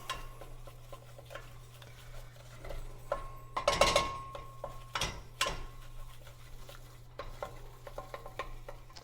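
Food is stirred vigorously in a cooking pot, a spoon scraping and clattering in irregular bursts over a faint steady sizzle, close and fairly quiet throughout.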